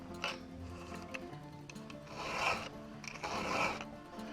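A chainsaw chain being sharpened by hand with a file: repeated rasping strokes in bursts, some short and light and two longer, louder swipes near the end, close up with no talking.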